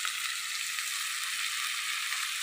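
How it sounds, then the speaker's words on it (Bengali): Crab coated in salt and turmeric frying in oil in a wok, giving a dense, even hiss that holds steady and fairly loud for the whole stretch with no voices. "আলু ভাজা তেলে কাঁকড়াটা ভেজে নেব"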